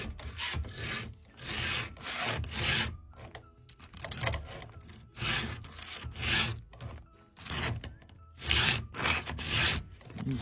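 Chainsaw chain held in a vise, its teeth hand-filed one after another: repeated rhythmic rasping strokes in bursts of roughly a second, close and fairly loud, with short pauses between passes.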